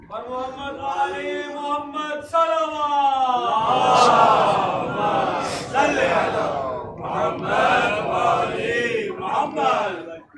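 A religious gathering's crowd raises loud chanted slogans in unison during a Jashn-e-Besat celebration, sustained bellowing voices rising and falling in waves for several seconds, near and dense.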